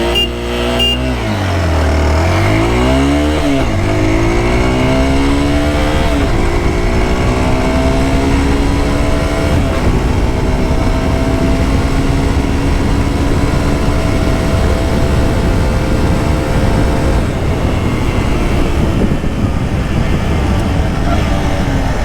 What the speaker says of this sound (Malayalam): അപ്പോൾ 0 to 100 നോക്കാം വണ്ടി എത്ര നേരം കൊണ്ട് കയറുമെന്ന്.